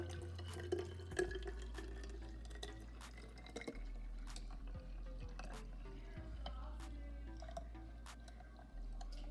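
Homemade natural hair moisturizer is poured into a spray bottle, giving a soft trickling and dripping of liquid with a low steady hum underneath, plus a few light clicks and taps from handling the bottle.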